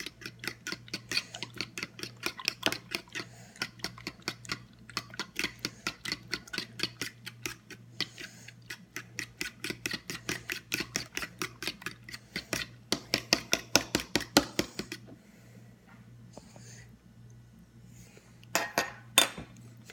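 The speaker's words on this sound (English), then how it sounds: "now it's time to stir. You want to stir it up really good" Omelette eggs being stirred in a bowl, a fast, steady clinking of a utensil against the bowl in rhythmic bursts, close and fairly quiet, stopping near the end with a few last taps.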